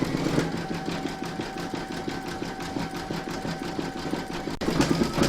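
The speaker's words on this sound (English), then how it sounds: "Load whichever colour thread you want for the satin stitching around the edge here, and then you're going to stitch round number 11." An embroidery sewing machine runs steadily, stitching a satin edge around a takeaway coffee coaster held in a hoop. Its fast, even mechanical rattle continues without pause at close range, with a brief change in tone near the end.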